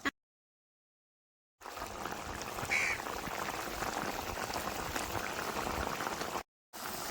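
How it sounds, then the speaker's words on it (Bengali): Cauliflower curry simmering in a pot over a village clay stove, a continuous bubbling, crackling sizzle heard close, with a short silent gap at the start and a brief break near the end. "এবার উনানের আঁচটা বাড়াই দিয়ে রান্না করে নেবো ফুলকপির কালিয়া"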